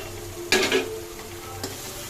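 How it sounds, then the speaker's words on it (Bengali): Ground turmeric, chilli, salt, cumin and coriander sauté in a pan, a low sizzle broken by one sharp stirring scrape and a softer second stroke, close, with no talking. "খুব ভালো করে কষে নেবো এটা।"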